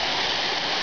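A Carpathian mountain waterfall pours in a steady, loud, close rush of broadband water noise, with no voices, where someone is bathing.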